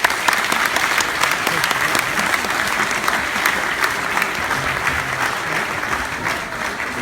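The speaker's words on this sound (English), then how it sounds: "round of applause for our parents?" Audience applause for the parents at a school event, steady dense clapping from a large crowd that stays even and loud throughout, with no voices standing out.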